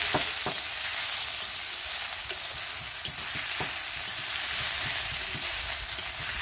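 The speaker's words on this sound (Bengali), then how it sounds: "ভালো করে পেঁয়াজটা নাড়তে হবে।" Onions fried with cinnamon and cloves in a pan over a wood-fired clay stove, a steady loud sizzle throughout with occasional sharp clicks of stirring.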